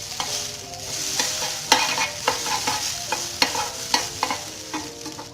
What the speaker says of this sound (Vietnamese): Nếu như các bạn muốn ăn sợi mì giòn thì chúng ta có thể áp chảo lâu hơn một chút cho cái sợi mì này nó giòn lên